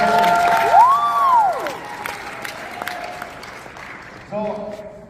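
An audience at a product launch for Fuel Factor X applauds and cheers in a brief burst that fades as a voice speaks over it, with a ringing tone rising and falling early on.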